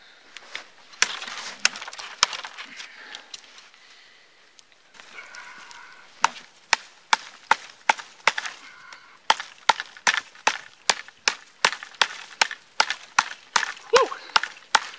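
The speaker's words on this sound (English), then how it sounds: "Real nice, smooth, clean cuts with your BK5." A Ka-Bar Becker BK5 knife, a 12-ounce large hunting blade, chops into wood with sharp, loud cracking strikes. The blows come sparse at first, then fall in a fast regular rhythm near the end.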